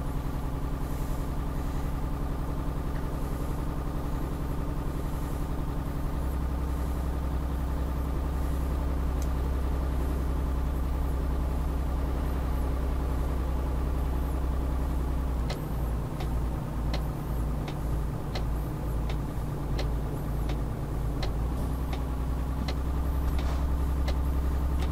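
A MAN truck driving in Euro Truck Simulator 2, its simulated diesel engine droning steadily with tonal hum, shifting pitch midway with a rhythmic pulsing stretch as it takes a corner hard.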